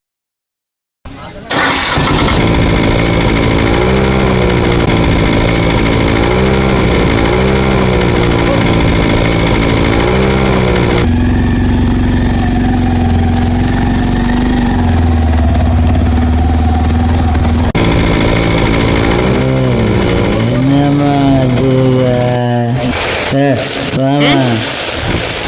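Vehicle engine starts and runs at a steady idle for about twenty seconds, close and loud, with a rev change in the middle and engine tones shifting near the end before cutting off.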